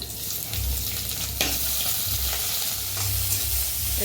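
Chopped onions frying in hot oil after a tempering of dried red chillies, a loud continuous sizzle close by with occasional stirring scrapes and low rumbling thumps, no voices.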